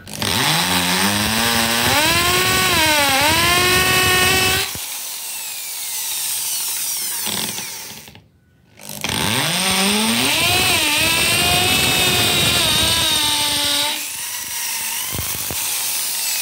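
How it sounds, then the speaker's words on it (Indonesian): A high-pitched electric drill boring into a ceramic tile wall whines loudly in sustained bursts, its pitch rising as it bites, with a brief pause between runs and a quieter stretch. "Kalau saya akan bor dengan yang paling kecil dulu dan pelan ya teman-teman."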